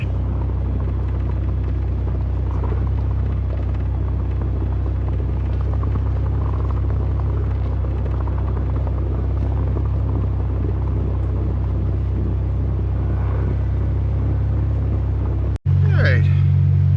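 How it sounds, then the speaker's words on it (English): A vehicle's engine drones in a heavy, constant low rumble as it pulls an Audi car up a snowy hill, ending in a sudden louder burst near the close. "Now we're just pulling this other Audi up the hill here."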